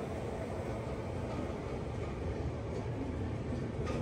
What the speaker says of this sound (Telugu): సికింద్రాబాద్ దానాపూర్ ఎక్స్ప్రెస్